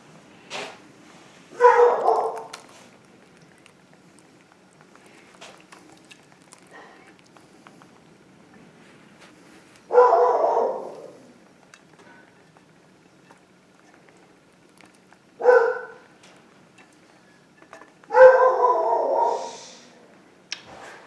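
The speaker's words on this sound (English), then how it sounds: "That's my dog." A dog barks in four separate short bursts spread across the stretch, moderately loud against a quiet kitchen background, with brief gaps of near silence between each outburst.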